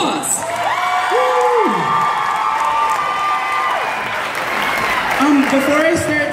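An audience at a talent show final applauds and cheers for a singer with dense, continuous clapping, whoops and rising and falling shouted calls throughout, loud and close.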